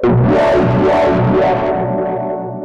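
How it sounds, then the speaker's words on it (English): An Endorphin.es Ghost pedal crushes reverb and delay into distortion, giving a loud, continuous, gritty wash with repeating echoes that pulse and slowly fade, with no voices. "So we're gonna crunch up all of our reverb and delay."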